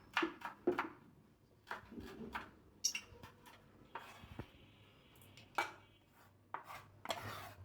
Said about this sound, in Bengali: এবার কয়েকটা কাঁচামরিচ কুচিয়ে নিই